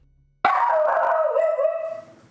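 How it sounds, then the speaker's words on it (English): A single dog bark stretching into a short howl, loud and close, sounding alone for about two seconds as part of a spooky full-motion-video horror game. "I hear a dog barking."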